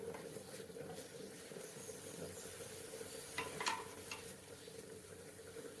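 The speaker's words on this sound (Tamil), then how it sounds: "ஆயிலில் நல்லா ஃப்ரை ஆகட்டும்." Chicken frying in oil for a spicy Hyderabad-style dish gives off a faint, steady sizzle and hiss, with a few soft crackles and pops rising briefly near the middle.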